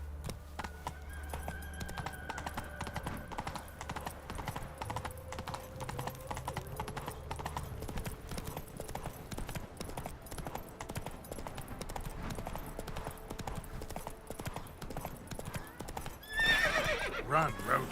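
A horse in the video game Witcher 3 gallops with a steady clip-clop of hooves and whinnies loudly several times, over game music and ambient effects.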